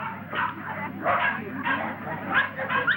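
Several Scottish terriers at a dog show bark and yip in overlapping bursts, fairly close, over a murmuring crowd and background chatter.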